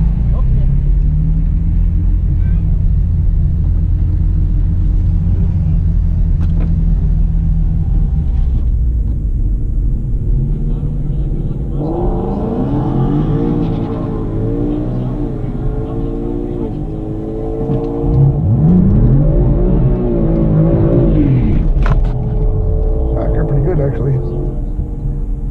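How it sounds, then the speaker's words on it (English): BMW M4 doing a small burnout at a dragstrip: a loud, close engine drone that rises into rev swells with tire roar, dips, then surges again, with someone talking over parts of it. "I'm just gonna do a little tiny burnout myself."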